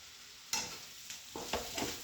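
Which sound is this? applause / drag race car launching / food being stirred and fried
food being stirred and fried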